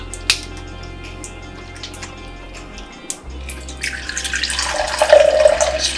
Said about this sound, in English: first I'm going to start off some cold water